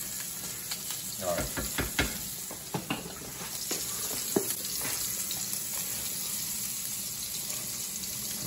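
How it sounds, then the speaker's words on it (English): Pot of water for spaghetti bubbling on a stove, a steady hissing roil with clinks and stirring knocks, while someone speaks briefly nearby. "Now the water's boiling."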